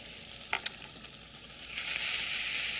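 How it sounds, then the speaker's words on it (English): Chard sizzles in a pan with onions and olive oil, a steady close frying hiss with a couple of brief clinks early on, after which the hiss swells louder and stays constant. "Let's take our chard and add it to the pan with our onions and our olive oil."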